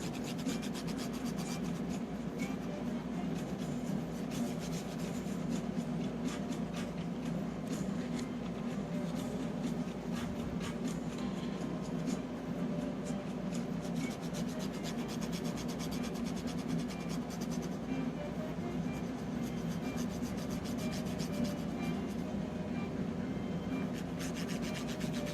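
Steady, continuous rubbing of a cotton bud soaked in rubbing alcohol on the label of a 1987 Nintendo cartridge, a soft even friction hiss held close and unbroken throughout.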